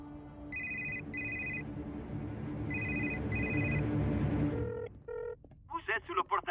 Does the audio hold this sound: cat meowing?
no